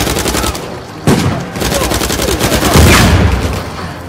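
Rapid, dense automatic gunfire from a shootout in Uncharted 4 rattles on loud and close without pause, with sharper shots punching through the steady barrage.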